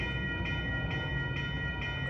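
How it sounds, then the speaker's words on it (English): An Amtrak Capital Corridor passenger train bound for Sacramento, led by a locomotive with an F59PHI trailing, approaches the 98th Avenue railroad crossing in Oakland, California, sounding sustained horn tones and a low rolling rumble. "Here comes Amtrak Capital Corridor train."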